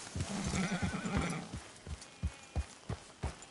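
A horse in the Red Dead Redemption 2 game lets out a neigh, then gallops off with rhythmic, close hoofbeats that steady into a regular thudding pace.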